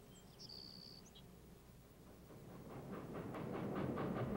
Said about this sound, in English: A train from the east chugs across the Bug River